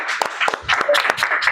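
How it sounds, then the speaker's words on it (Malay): Brief burst of classroom applause for a student, several pairs of hands clapping unevenly at close range for about a second and a half. "Beri tepukan gemuruh kepada Umar."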